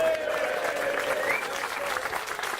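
An audience at a comedy show claps steadily for a couple of seconds, a dense, even wash of applause with faint voices mixed in.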